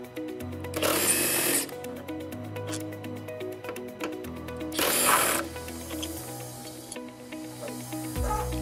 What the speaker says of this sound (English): use a 13mm socket with a power tool or with a hand tool, choice is yours, to go ahead and lower the exhaust